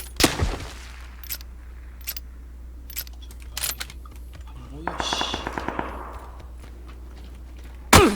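Gunfire in the battle royale game PUBG: a rapid automatic burst rattles out mid-clip, framed by scattered single shots and sharp clicks, with a loud final report at the end.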